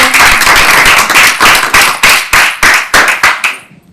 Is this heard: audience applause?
yes